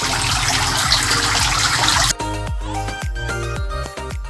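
Water falls from a perforated PVC pipe into a silk worm holding tank, a dense steady splashing that abruptly gives way to a sparser pattern of repeated drips and trickles.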